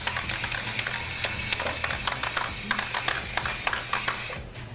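Aerosol spray paint can spraying black paint in short repeated bursts, with a faint metallic rattle, fairly close and loud throughout before cutting off at the end.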